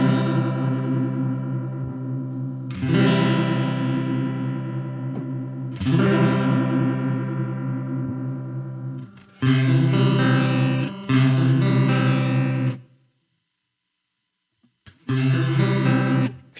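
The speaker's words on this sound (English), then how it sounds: "If you hear the chorus effect is instant almost." Distorted electric guitar through a heavy Line 6 Helix chorus with low pre-delay, the warbling modulation kicking in almost at once; loud sustained chords and strums in several bursts separated by brief gaps, with one longer silence near the end.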